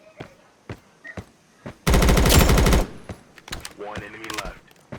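A single loud burst of rapid automatic gunfire in Roblox Blackhawk Rescue Mission 5, about a second long and close, set between scattered lighter clicks and thuds, with a voice talking briefly afterward.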